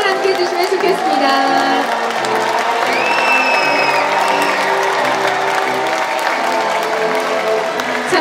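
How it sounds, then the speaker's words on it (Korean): A large crowd applauds steadily with cheers and whoops rising throughout, dense and continuous, while an announcer's voice carries over the noise, as military bands and volunteers enter a stadium ground at the Yi Sun-sin Festival in Asan, South Korea. "큰 박수와 함성을 함께 해주시면 좋겠습니다"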